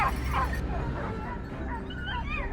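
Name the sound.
dogs barking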